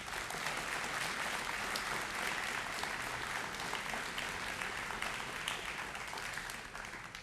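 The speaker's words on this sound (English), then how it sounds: "I think we should give him another round of applause." An audience at a Veterans Day gathering gives a round of applause, steady dense clapping heard from within the room, even throughout and fading slightly at the close.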